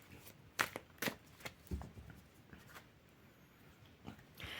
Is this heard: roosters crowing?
no